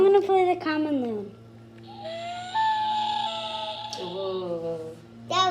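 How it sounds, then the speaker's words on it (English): A recording of a common loon plays a long, rising and wavering wail in the middle, with a voice just before and after it. "Now I'm going to play the common loon."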